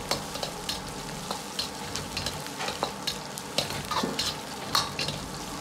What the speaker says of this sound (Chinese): 把五花肉炒出油脂，表面稍微发黄，接着下入姜蒜粒和适量的干辣椒煸炒出香味